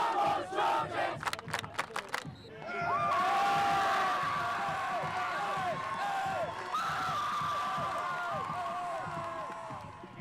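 High school student section at a North Pocono football game on Tackle for Cancer Night, loudly chanting and cheering in rhythmic unison after a few sharp claps, with a sustained dense crowd roar.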